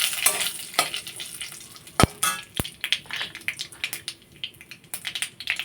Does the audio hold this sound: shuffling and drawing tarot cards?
no